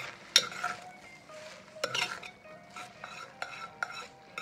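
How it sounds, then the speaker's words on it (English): Lobster pasta sauce is stirred in a pan, with a spoon scraping and clinking against the metal in several distinct strokes over a faint background sizzle, close and quiet, with no talking. "Give it a quick stir."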